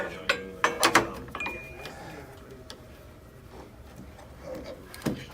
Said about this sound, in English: I'm going to pull the belt off.